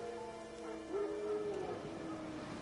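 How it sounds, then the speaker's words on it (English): Wild dogs howl in the video game The Witcher 3, a faint wavering howl rising and falling over a low ambient background, with no talk. "Wild dogs. Yes. More dangerous than wolves."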